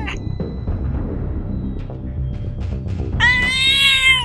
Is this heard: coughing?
no